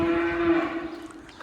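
Cows on a German dairy farm give a loud, close, drawn-out moo lasting about half a second that fades into low barn noise.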